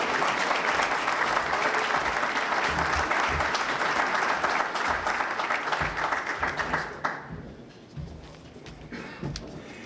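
An audience at a university community breakfast in Elmhurst applauds steadily as the mayor is welcomed, a dense roomful of clapping that holds strong for about seven seconds before thinning to scattered claps.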